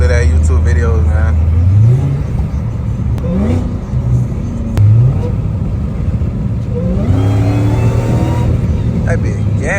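A Dodge Challenger Hellcat Redeye engine revs hard, rising in pitch in repeated surges and dropping back between them, loud and close, with voices talking over it.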